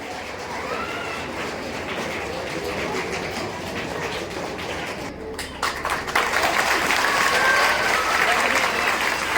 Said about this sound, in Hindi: तालियों से इनका स्वागत किया जाए।